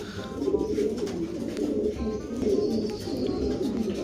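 A pigeon coos softly near a nest holding freshly laid eggs, low repeated rolling coos at moderate distance with faint background noise and no speech.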